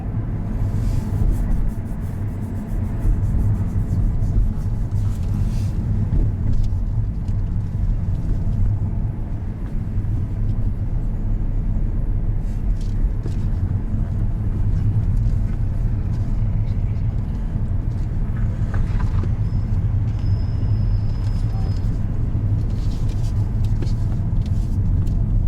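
A learner's car labouring in third gear around a roundabout during a mock driving test, a steady low engine drone and road rumble heard from inside the cabin, with talk now and then over it.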